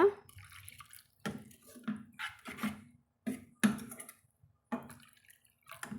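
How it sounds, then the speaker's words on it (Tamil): Water is poured in short splashing bursts into a pan of bottle gourd gravy, stopping and starting several times, close by with no talking. "இப்போது நம்ம தேவையான அளவு வந்ததில் தண்ணி சேர்த்துக்கலாங்க"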